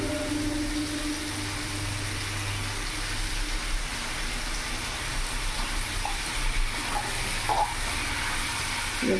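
Ginger, cumin, tomato and green chili masala paste sizzles steadily in a pan for a Bengali fig curry, a continuous close frying hiss with faint stirring scrapes near the end and no voices.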